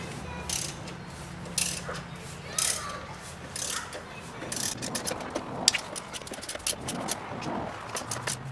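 A ratchet with a 13mm socket loosens the strut tower bolts on a Pontiac Fiero with a 2.8 V6 engine. Quiet, uneven mechanical clicks and ratcheting bursts sound close by against a low background hum.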